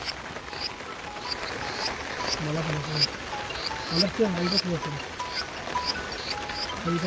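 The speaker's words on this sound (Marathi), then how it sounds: "बघा पाऊस आलाय" Steady rain falls beside a river in the Konkan region, a constant hiss of drops running throughout while voices talk over it.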